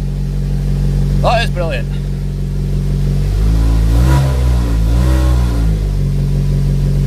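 A 2.2 Z22SE engine in a Mk4 Vauxhall Astra runs at a steady idle after an ECU kit replacement, a loud low hum that swells briefly as it revs, while a man exclaims briefly over it.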